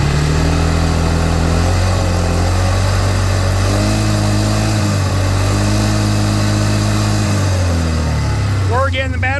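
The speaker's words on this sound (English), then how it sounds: "Another thing I've noticed on it is if you rev it up," A junkyard-rescued Polaris Sportsman ATV engine idles loudly nearby and is revved in several rising and falling bursts, its steady drone continuous throughout.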